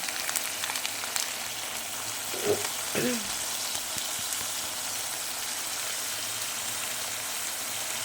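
Spices for potato curry frying and being stirred in a pan, a steady close sizzle with a couple of brief spoon scrapes partway through.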